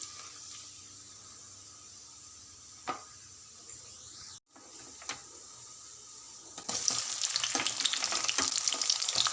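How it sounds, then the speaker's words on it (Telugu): Oil crackles and sizzles steadily as cumin, mustard seeds, chana dal and urad dal fry in a pan, growing louder and busier toward the end, with a couple of soft clinks early on. "స్పూన్లో ఆయిల్ పోసుకొని జీలకర్ర ఆవాలు శనగపప్పు మినపప్పు పోపు దినుసులు వేసి కొద్దిగా ఫ్రై చేయాలి"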